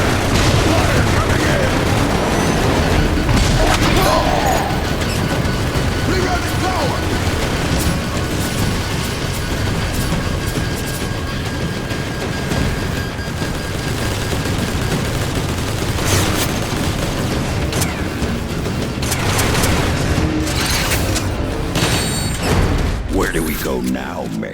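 Incoming fire and explosions in the Transformers War for Cybertron video game on PS3: sustained loud bursts of gunfire, booms and blasts across the whole stretch, with voices talking over the battle at times.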